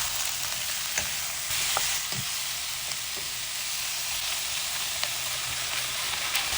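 Steady, loud sizzling of milkfish frying in a pan, a dense crackling hiss with occasional sharper pops, no voices.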